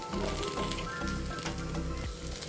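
Sabudana appe cooking in an appe pan on a gas stove, a loud, steady sizzle and crackle of frying with a fine, rain-like texture, close and continuous, without talk.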